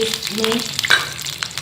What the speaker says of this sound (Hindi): ये सेवइयाँ मैंने थोड़ी सी हल्की सी फ्राई कर ली है।